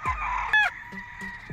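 A gray, white-legged Talisay gamefowl rooster at a gamefarm gives a loud, close crow with a sharp rise and fall, followed by a few softer clucks.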